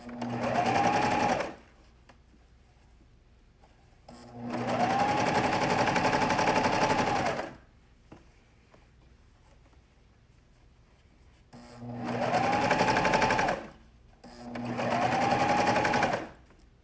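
A sewing machine stitching jersey fabric runs in four bursts of rapid stitching, each a couple of seconds long, separated by short pauses; close and loud.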